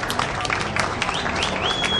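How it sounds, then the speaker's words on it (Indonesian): Audience applause at a 2013 Jakarta ceremony where the governor hands over to a street-vendor cooperative, a steady dense clapping wash sustained throughout at moderate level, with faint whistles rising above it. "Kita boleh berikan tepuk tangan."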